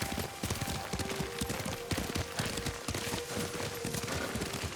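Rapid clip-clop of horse hooves while riding in the video game Ghost of Tsushima, a steady galloping rhythm that is loud and continuous, with a faint voice briefly under it.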